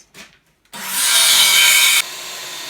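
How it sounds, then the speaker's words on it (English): A Ryobi drill bores a pre-drill hole into a wooden door frame: after a brief faint knock, a loud, close whirring grind runs steadily for over a second, then cuts off sharply, leaving a low residual hum. "pre-drilling holes in my door frame using my Ryobi drill"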